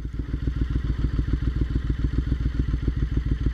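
A Triumph Scrambler 900 motorcycle engine runs close by in a steady, even idle, its rapid, regular exhaust pulses thumping loudly and continuously with no voices over it.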